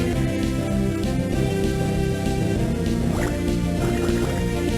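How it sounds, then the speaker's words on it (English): A Water Gun attack in the Pokémon Emerald video game sounds as a synthetic, bubbly splashing effect layered over continuous, loud game background music. "A Water Gun's definitely not doing a ton of damage."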